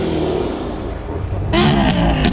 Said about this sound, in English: There's an R8 V10 pulled up here.